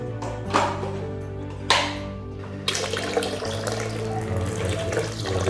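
Water gushes steadily as a CNC spindle cooling pump draws water, with a low motor hum underneath and a couple of sharp surges near the start.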